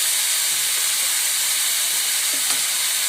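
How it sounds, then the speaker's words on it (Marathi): Capsicum sautés in a hot pan for soya chunks manchurian, giving a steady close sizzle and hiss with a few faint stirring touches. "शिमला मिरची टाकायची, ते सुद्धा हलकं परतून घ्यायचं।"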